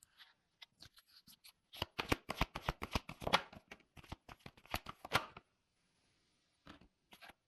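Tarot cards are shuffled by hand in a rapid burst of crisp riffling flutters and taps, close and fairly quiet, followed by a pause and a couple of light final card taps.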